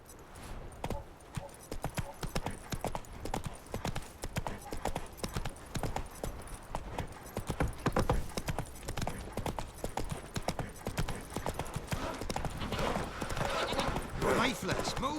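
Geralt's horse Roach in Witcher 3, hooves clip-clopping in a quick, steady rhythm throughout, close and prominent, with occasional speech and other game sounds mixed in.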